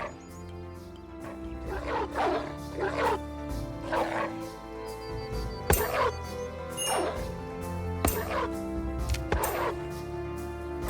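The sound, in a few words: dogs barking in the video game Going Medieval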